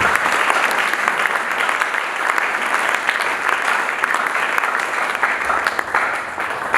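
A congregation at a French-language Christian gathering applauds loudly and continuously, a dense, even roar of many hands clapping from start to finish.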